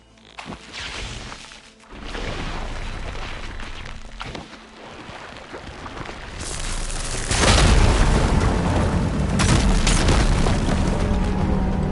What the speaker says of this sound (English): Igniting the fire gleam should clear it.